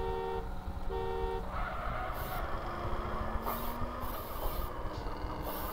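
Car horn honks in GTA San Andreas, played on PC through the MTA multiplayer mod: a few short tonal blasts early on, heard over steady engine and game noise.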